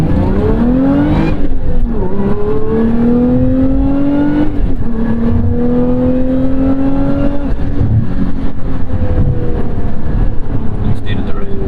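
A car is driven aggressively through corners, the engine loud and close as it repeatedly revs up, shifts and climbs again in pitch, with a steady road roar underneath.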